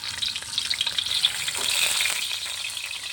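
Chicken parts, including gizzards, tails and hearts, frying in hot oil in a pan, giving a steady close crackling sizzle with brief bubbling bursts and no voices.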